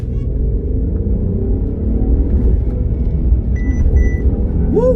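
A Mercedes E 450 AMG turbo engine in sport mode surges under acceleration with a deep, loud rumbling roar close by, building steadily through the run with rising gear-pitch sweeps at the end.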